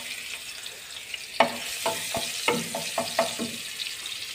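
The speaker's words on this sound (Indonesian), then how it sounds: "Kita masukkan bawang putih." Garlic dropped into a hot pot and stirred while cooking a soup of choy sum and meatballs with white radish: steady close sizzle with a series of sharp scraping stirs and clinks, no talking.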